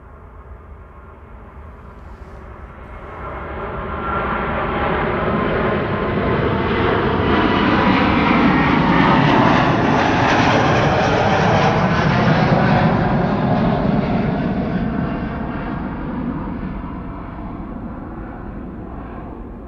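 Delta Air Lines Airbus A330neo jet departing Amsterdam Schiphol for Atlanta, its engine roar swelling from a moderate rumble to a loud, broad sustained peak midway, then slowly fading as it climbs away; no voices.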